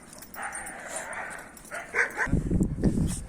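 A few dogs bark and yip in short bursts, moderately close, with some whining tones mixed in; no talking.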